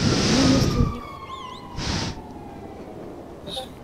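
Police sirens wail in a warbling pattern in Grand Theft Auto V, faint and distant beneath a loud car passing at the start and brief whooshes afterward.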